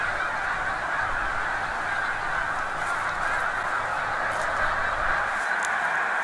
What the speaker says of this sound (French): c'est la période où il y a des oies de neige, comme ils appellent ça, qui migrent et qui vont vers le sud